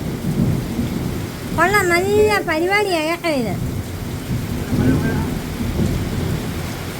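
Heavy rain falls steadily with thunder, a constant loud wash of downpour throughout, while a person speaks briefly in the middle over the rain.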